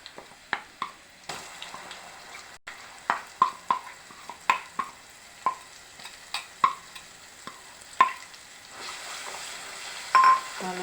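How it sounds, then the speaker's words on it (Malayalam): Spice masala being stirred into passion fruit pickle frying in a pan: a series of sharp scraping clinks at irregular intervals over a faint sizzle. "നല്ല ഇളക്കി യോജിപ്പിക്കാം"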